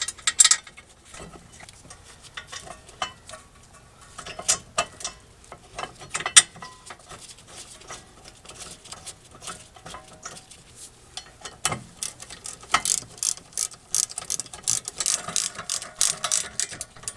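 Ratchet wrench clicking while a rear brake caliper bracket is bolted back onto a 2006 Mazda 3, with bursts of quick, close ratcheting clicks, separated by pauses and light metallic handling sounds.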